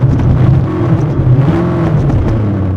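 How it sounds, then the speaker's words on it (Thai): A Mercedes-Benz CLS-Class W257 fitted with a THOR Active Sound system revs hard and steadily up close, with a rough, rumbling exhaust backfire crackling throughout the whole stretch. "นี่คือเบิ้ลเครื่อง แล้วแล้วแล้วคุณฟังนะ คือแบ็คไฟออกแบบว่าลั่นอ่ะ"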